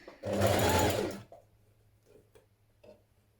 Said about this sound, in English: stitch your skirt front to your skirt back at the side seams